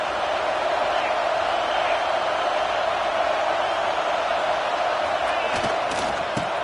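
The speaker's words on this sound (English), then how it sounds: "This crowd trying to make life miserable for this offense." Stadium crowd at a college football playoff game, a sustained loud roar of noise and cheering filling the whole clip without letting up.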